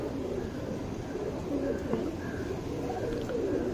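A tournament racing pigeon in Bangalore coos softly in a continuous low murmur, close by, with a faint steady background noise underneath.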